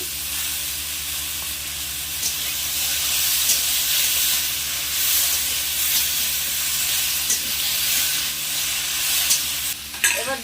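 Chopped tomatoes hit a hot pan of pumpkin seasoned with salt and turmeric, setting off a steady, loud sizzle with faint stirring scrapes throughout and a few clatters near the end.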